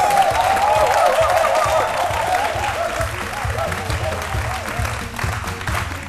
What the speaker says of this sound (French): je vais vous demander de l'applaudir très très fort